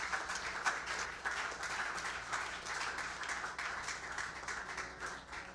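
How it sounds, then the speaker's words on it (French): A church congregation applauding the choir at a Sunday service: steady, sustained clapping from many hands filling the room at moderate loudness, with no break from start to finish. "Est-ce que tu peux bien acclamer pour la chorale?"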